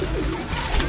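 Soft, close cooing of breeder pigeons, a brief rolling coo over a low, even background hum.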